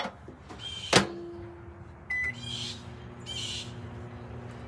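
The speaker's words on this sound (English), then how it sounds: "What do you want, bird?" A bird calling outdoors, with a few short, bright chirps spread across the clip over a low background hum and a sharp click near the start.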